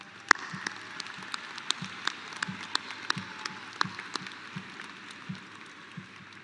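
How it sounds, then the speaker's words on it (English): A scattered round of applause at a high school graduation ceremony: light, uneven hand claps from a modest group of staff, steady but thin, with a few sharper claps standing out. "Will the Legacy staff please join me in a round of applause for our graduates?"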